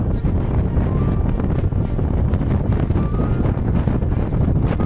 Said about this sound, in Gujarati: ધોધમાર પવન પણ આવે